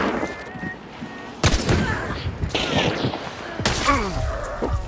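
Several sharp, booming gunshots in the video game Hunt: Showdown ring out a second or so apart, loud and close, with players talking between the shots.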